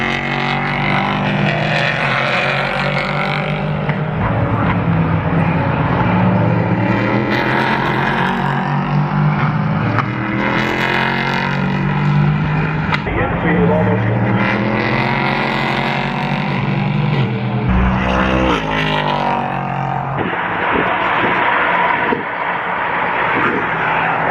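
Race cars at the start of the Rolex 24 at Daytona International Speedway roar past, a dense, loud wash of engine noise with rising and falling pitches as cars pass, mixed with crowd and loudspeaker din.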